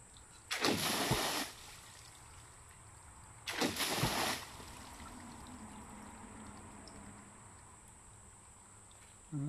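A Bunyip PA13 hydraulic ram pump on a slow, small water supply at Cowley, Cassowary Coast, North Queensland, gives two separate loud splashing, gushing bursts about three seconds apart over a quiet background of trickling water.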